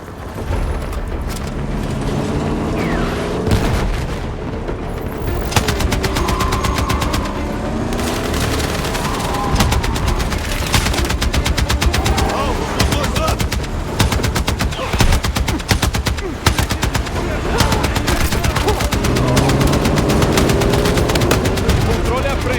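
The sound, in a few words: gunfire in video game Battlefield 6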